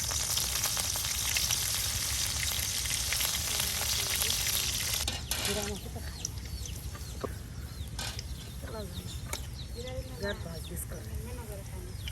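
Oil goes into a hot pan in a village kitchen, a loud, dense sizzle for about five seconds that then drops to a quieter crackling fry while a person talks over it.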